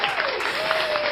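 Audience applause on a talk show, a dense wash of clapping from a crowd at steady volume, with a faint tonal whine running beneath it throughout.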